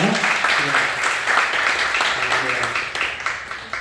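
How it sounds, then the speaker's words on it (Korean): A church congregation at Sunday worship claps in welcome for visiting members, a sustained clatter of many hands while a voice speaks over it. "한번 여러분이 다 아시는 박수로 환영합니다."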